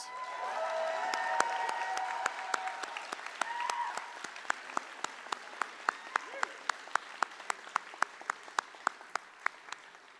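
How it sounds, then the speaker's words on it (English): Audience applause at a university journalism school commencement ceremony, a dense wash of clapping with sharp individual claps standing out, fading gradually over about ten seconds while some voices murmur underneath. "Let's give them a round of applause"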